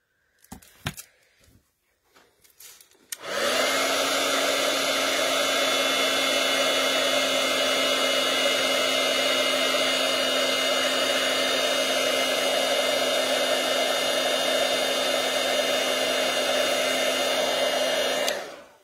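A heat tool blows hot air onto a craft project, a steady loud whooshing roar that starts after a few soft clicks and handling noises and runs unbroken for about fifteen seconds before cutting off.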